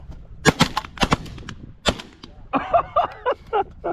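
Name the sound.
gunshots while hunting pigeons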